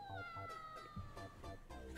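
A cat bell meow from the Mega Man Battle Network video game, a few short chiming meow tones over steady game music with faint gameplay sounds beneath.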